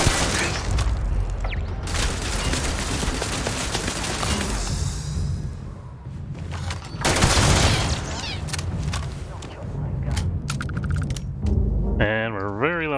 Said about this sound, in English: Oh, it's a gun turret.